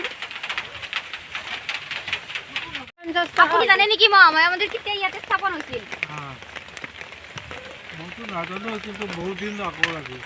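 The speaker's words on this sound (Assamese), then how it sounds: "লগতে আজি বহুত বৰষুণ" Heavy rain falls at the Mahamaya temple in Dhubri, a loud, steady, dense hiss that runs throughout, alone at first and then under people talking.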